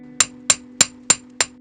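Five sharp, evenly spaced hammer blows ring out on a metal banana-leaf earring piece, each a crisp bright strike with a quick decay, struck hard and close over a faint steady hum.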